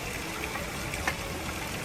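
A mountain stream on the Kedarnath trail flows with a steady, full rushing wash of water, close and even, with brief splashier spurts.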